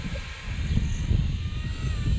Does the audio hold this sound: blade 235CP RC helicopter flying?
yes